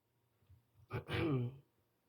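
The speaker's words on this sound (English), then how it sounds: "Got this Nicorette making me cough." A single harsh cough bursts out close by after a short quiet stretch, with faint breathy sounds before it.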